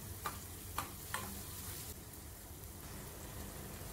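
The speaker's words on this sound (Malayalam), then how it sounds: "അതിലേക്ക് കറിവേപ്പില ചേർത്ത് ഒന്നും കൂടി ഇളക്കി കൊടുക്കുക" Mixed vegetables with curry leaves frying in a pan, a soft steady sizzle throughout with a few brief scraping stirs near the start, no talking.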